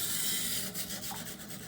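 A Benchmade Bugout knife being sharpened on a Norton water stone, continuous wet rasping strokes rubbing back and forth, close and steady with no speech.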